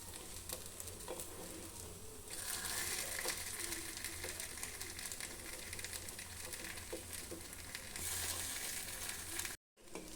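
Oats paddu batter sizzling steadily in a paddu pan as the pieces are flipped one by one, a continuous close frying hiss with faint scraping clicks, swelling louder midway and again near the end before a brief cut.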